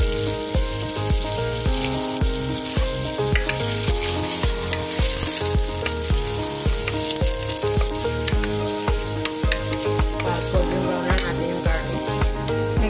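Lots of garlic sizzles steadily in melted butter in a pan, a loud, continuous frying crackle with stirring scrapes, up close and with no talk.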